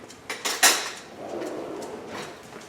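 Kitchen clatter while making a turkey sauce: three quick, sharp knocks of utensils against pots and dishes, then a softer, steady bubbling background.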